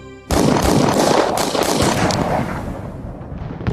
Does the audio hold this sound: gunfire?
yes